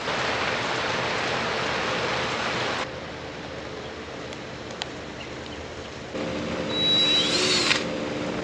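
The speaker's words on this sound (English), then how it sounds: "He's drilling a hole into every single one." A power drill whirs in steady bursts, loud and close, with a brief quieter gap before it revs up again, higher pitched near the end.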